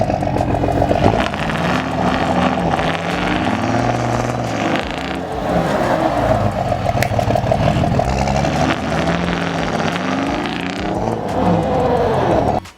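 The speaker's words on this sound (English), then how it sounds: "Second try, still spinning out." A lifted truck stuck in deep snow is being pulled out while its engine revs hard and its tires spin. The loud, sustained engine roar rises and falls in surges close up, with no talking.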